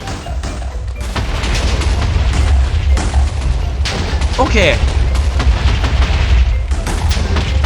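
Minecraft TNT explosions from a mod's MEGA TNT boom and crackle continuously under a voice speaking Thai, with a dense rumbling blast texture throughout.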